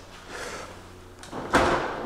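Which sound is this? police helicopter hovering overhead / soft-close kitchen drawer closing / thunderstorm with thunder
soft-close kitchen drawer closing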